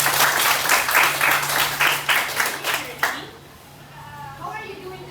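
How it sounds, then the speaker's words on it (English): A classroom group claps together in a brisk, rhythmic round of applause that stops abruptly after about three seconds, followed by a voice speaking. "Give yourself a big round of applause."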